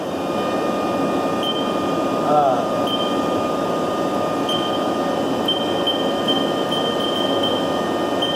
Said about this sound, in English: Get the spindles warming up here. Got the spindle going.